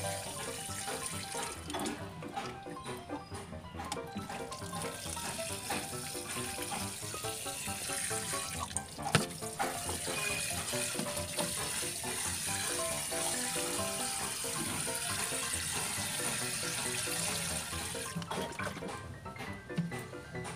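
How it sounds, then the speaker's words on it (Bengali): Water pours steadily onto eggplant seedlings planted in dry soil in a rooftop garden, a continuous splashing rush that runs close and even for the whole stretch, with no talking. "তো আমি একটু বেশি করে পানি দেব, কারণ মাটিগুলো একদম শুকনো"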